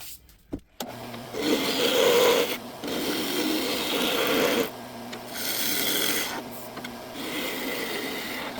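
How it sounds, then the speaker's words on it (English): A bowl gouge shear-scraping a wooden bowl on a lathe makes a loud, continuous rasping hiss in long passes with short breaks between them, over the hum of the turning lathe. "I'm just going to do a shear scrape, get that nice and smooth."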